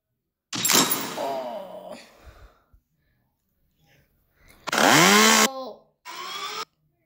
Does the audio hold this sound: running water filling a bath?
no